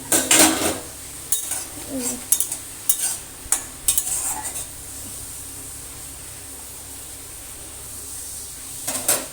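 Okra cooks with mustard in a home kitchen pan, with a spoon scraping and clinking against the metal in several sharp bursts over a faint continuous sizzle, then a quieter stretch before one more stir.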